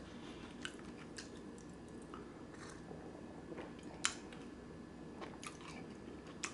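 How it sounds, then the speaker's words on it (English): A person chews a kale smoothie containing pecan pieces, giving soft, irregular crunches and small clicks close to the microphone over a faint background hiss, with no talking. "I'm chewing because of the pecan that I put in it there at the last"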